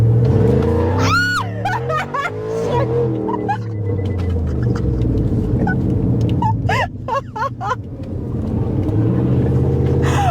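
A Chevy engine roars and revs up loudly as the vehicle accelerates at a car and truck show, pitch climbing through the gears over a continuous rumble.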